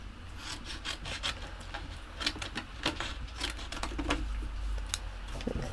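Scissors trimming around small paper card pieces for a handmade anniversary card, producing close, soft snips and rubbing rasps in an uneven rhythm over faint background hum.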